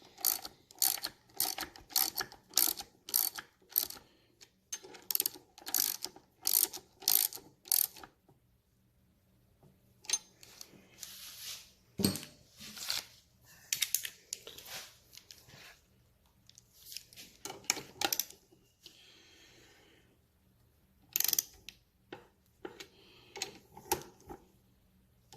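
Ratchet wrench clicking as bolts are run in on a 1971 Triumph Tiger 650 engine bottom end during a rebuild, with rapid bursts of close, crisp clicks separated by short pauses.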